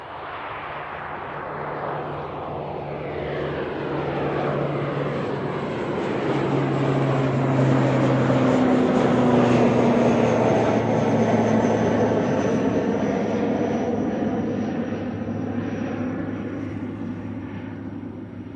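An ATR turboprop takes off at Christchurch Airport, a propeller drone with strong tonal hum that rises, peaks loud mid-clip as it passes with shifting pitch, then recedes, with no voices.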